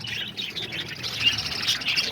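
Pet birds in an aviary holding budgies, lovebirds, diamond doves and cockatiels, chirping and tweeting in a busy overlapping chatter, fairly close and continuous, with no voices.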